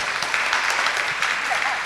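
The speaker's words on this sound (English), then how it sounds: "give Delia and Milenko a round of applause" Audience applause for two artists at a conversation event, a steady dense wash of clapping through the whole short stretch with a voice faintly underneath.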